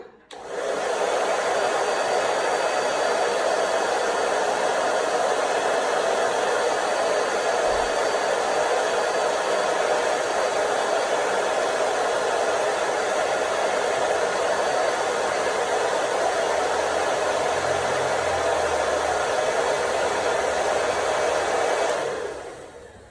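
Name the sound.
hair dryer with diffuser running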